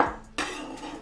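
A frying pan used for baking is rinsed in a kitchen, with a short metallic clank of the pan and a splash of water, heard close and with no talk.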